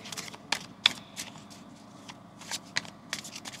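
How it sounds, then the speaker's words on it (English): A deck of oracle cards is shuffled by hand, giving soft, quick riffling bursts and light slaps, close and fairly quiet, with no talking. "And then we're going to do this shuffle here"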